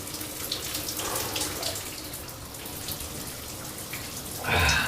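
Cold shower water runs as a steady hiss and splash throughout, growing louder in a gush near the end, with no talk.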